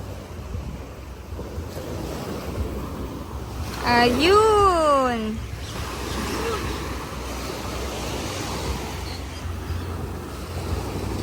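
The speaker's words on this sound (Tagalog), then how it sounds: "mataas yung alon" Ocean waves surge and wash steadily off the coast of Bohol under strong wind noise on the microphone, with people talking and exclaiming over the rush of water.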